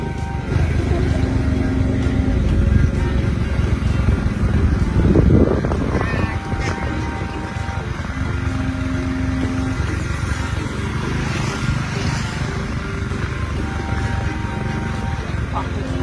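A motorcycle engine idling and puttering nearby with a brief throttle blip, then a steady low drone, while a voice talks over it at times.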